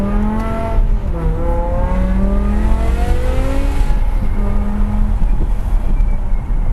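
2007 BMW E63 M6 with its V10 engine accelerating from inside the car, a loud droning engine note rising repeatedly through the gears with clear pitch climbs and drops.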